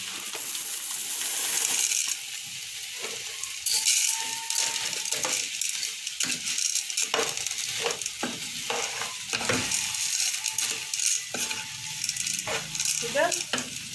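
Dry pasta from a bag pours into a pot while making Egyptian koshari, a loud run of rattling, clattering pieces over several seconds with scattered sharp clicks.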